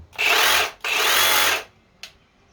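A Milwaukee Sawzall reciprocating saw on a 12V battery runs in two close, loud bursts with a short pause between, then gives a brief click at the end.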